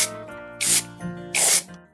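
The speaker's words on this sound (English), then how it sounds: "And then I'm going to use mould release spray." Two short, forceful hisses of an aerosol mould release spray, close up, separated by a brief pause, over a faint steady hum.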